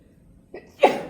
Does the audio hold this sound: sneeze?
yes